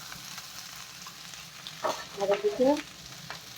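Vegetables fry with salt and turmeric in a pan over tempered spices, a soft steady sizzle with a few stirring scrapes and clinks near the end, and a voice speaks briefly.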